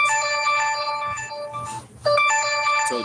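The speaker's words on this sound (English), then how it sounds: "I told you I'm on Discord. I'm getting notifications in." Discord notification chimes on a computer, a run of bright, tonal ringing pings that break off briefly then resume, loud and close with no talking over them.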